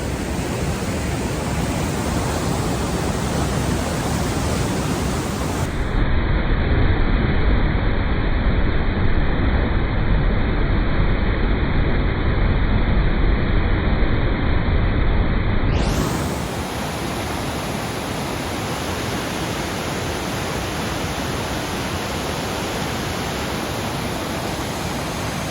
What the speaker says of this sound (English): That may be the best I've ever seen Mouse Creek Falls flowing. It's gushing.